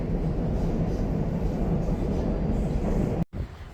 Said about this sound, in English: Now we're on the train.